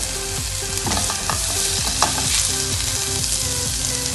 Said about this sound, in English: Now I am going to add chopped tomatoes and cook them slightly.